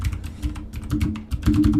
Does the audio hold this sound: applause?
no